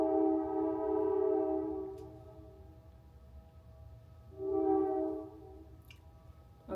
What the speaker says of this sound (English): I live by a big train.